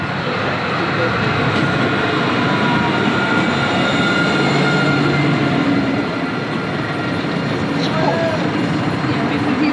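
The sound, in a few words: tram ride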